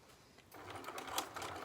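A sewing machine stitches across dress straps, starting up after a brief quiet moment into a soft, rapid, steady mechanical whirr that stays fairly faint.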